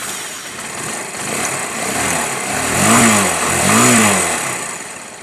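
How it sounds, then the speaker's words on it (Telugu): Rebuilt motorcycle engine with a new carburettor running close by, a steady idle that swells twice into brief revs before settling back, alone with no voices. "ఇప్పుడు బండి అయిపోయింది, మళ్ళీ స్టార్ట్ చేస్తాను."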